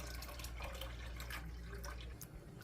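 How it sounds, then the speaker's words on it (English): A milk and flour pudding mixture for banana pudding is poured into a pot, giving a steady, soft liquid rush that runs evenly throughout, close by, with no talking. "you're going to pour all of that mixture with the milk and flour and all that into a pot"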